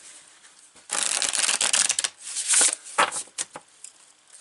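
Wild Unknown Tarot cards being shuffled by hand, a few bursts of papery riffling and soft slaps with brief pauses between, close and fairly quiet.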